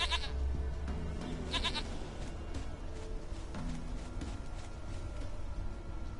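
In The Witcher 3, a goat gives a few short, wavering bleats near the start over quiet in-game ambience, and the rest stays calm.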